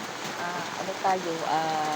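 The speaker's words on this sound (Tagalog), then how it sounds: "pag uwi ni Papa Bits, lumakas na yung ulan hanggang ngayon" Heavy rain falls steadily outdoors as a broad, constant hiss under a person talking, with faint splashes running throughout.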